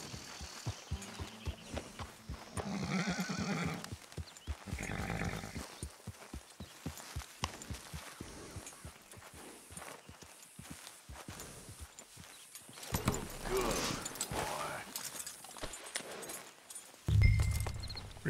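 Horse hooves clip-clop at a steady walking pace in the Red Dead Redemption 2 video game, fairly quiet and close, with a few louder thumps and movement sounds near the end.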